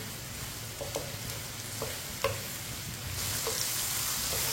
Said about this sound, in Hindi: इसी तरह इसे चम्मच चलाते हुए पकाना है